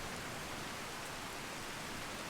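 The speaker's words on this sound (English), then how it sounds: "oh wow, it's really raining." Steady rain falling in Skyrim, a continuous even hiss of downpour with no breaks, moderately quiet and alone without any talking.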